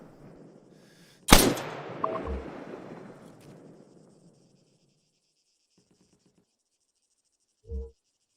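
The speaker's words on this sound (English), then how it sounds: "I can hear gunfire." Gunfire in the military shooter game Arma 3: one sharp, loud shot rolls off into a long fading echo. After quiet, a faint, dull thump sounds in the distance.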